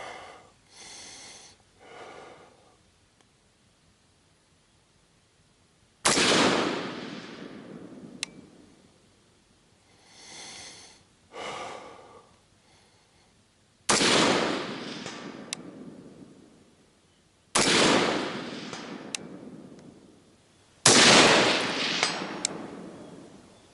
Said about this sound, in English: It'll be awesome if I get a cold bore shot, right?